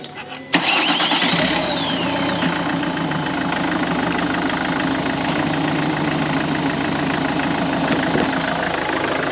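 A Ford Kuga 2.0 TDCi diesel engine, just fitted with a new timing belt, cranks and catches abruptly, then settles into a steady, slightly clattery idle that runs close and loud.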